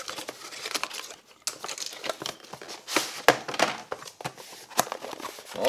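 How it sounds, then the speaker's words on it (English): Tape is cut and the packaging of a PS5 HD camera is opened, making close, busy crinkling, rustling and tearing sounds with sharp snaps throughout. "we're just going to cut it because the tape was giving me troubles"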